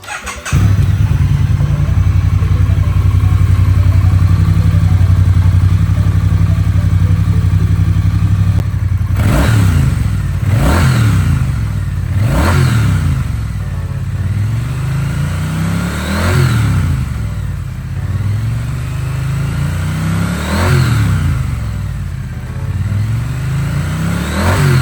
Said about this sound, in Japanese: それではエンジン始動していきます。